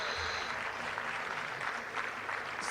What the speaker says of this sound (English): May we please give him a big round of appreciation applause